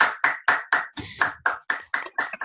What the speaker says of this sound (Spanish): Yo quiero invitarlos a que ustedes le den un aplauso